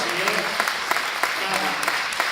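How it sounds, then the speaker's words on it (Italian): A live audience at a forum event claps in a brief round, a dense patter of scattered claps at moderate distance, with a voice talking faintly underneath. "intanto un applauso ai ragazzi"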